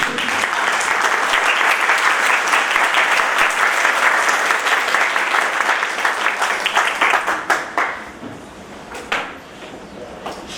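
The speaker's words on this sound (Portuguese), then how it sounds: "Eu gostaria que a Suzana Colém se levantasse para a gente receber nossas palmas" Applause from an audience at a sectoral meeting in Belo Horizonte: a loud, dense wall of clapping from many hands that holds steady for about seven seconds, then breaks into sparse, isolated claps as it fades.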